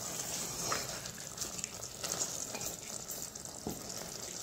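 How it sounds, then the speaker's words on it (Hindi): Mutton sizzling and frying in a pot during curry preparation, a steady close crackle with occasional stirring scrapes, no talk. "ये मटन 1 से 2 मिनट भून लेना है मटन डालने के बाद"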